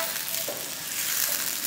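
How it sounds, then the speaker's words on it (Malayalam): Hot oil tempering with curry leaves poured over a tomato mixture for a Malayalam curry, giving a steady close broadband sizzle that hisses without a break, with no voices. "ഈ ചൂടെണ്ണ അങ്ങനെ ഒഴിക്കണം മിക്സിലേക്ക്"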